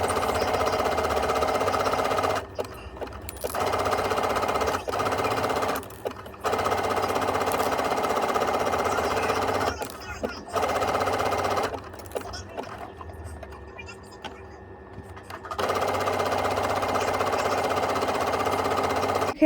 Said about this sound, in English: so now I'm going to sew along there